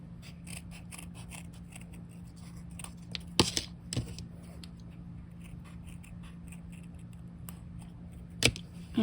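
Scissors snip out a piece of material used to weight down a crocheted hot cocoa pincushion, giving a few quiet, sharp cuts over a steady low background hum.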